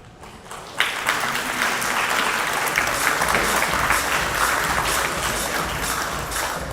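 Sustained applause from a wedding reception audience for Vishal and Kavina, rising sharply after a quiet start into a dense, steady wash of clapping that holds for several seconds.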